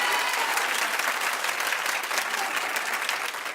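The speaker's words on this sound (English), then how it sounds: "clap if you'd like to see this happen." An audience claps in support of the idea of two musicians making music together, a fairly faint but continuous spread of many hands clapping at an even level throughout.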